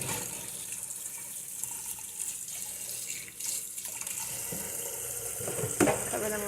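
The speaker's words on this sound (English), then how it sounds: "Cover them with water." Water poured from a container over strips of wild plant bark sitting in a tub, a steady splashing, trickling pour running close by for several seconds and ending in a brief louder splash.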